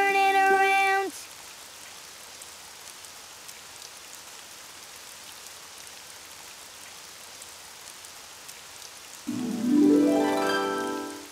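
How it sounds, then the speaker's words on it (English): Soft, even patter of rain continues steadily between brief tonal passages at the start and end. "Oh, it's raining outside."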